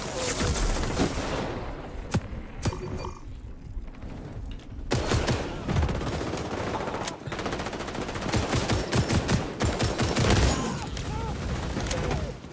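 M1911 pistol gunfire in the shooter game XDefiant, dense rapid volleys of shots and other weapons firing almost continuously, loud and close, with a voice talking over the fighting.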